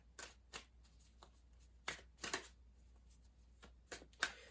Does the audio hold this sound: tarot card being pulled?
yes